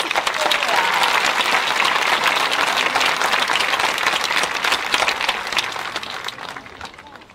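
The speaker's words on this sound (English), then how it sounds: "How about another round of applause for our concert?" An audience at a graduation ceremony applauds in a dense, steady wash of clapping that holds loud and continuous, then begins to thin near the end.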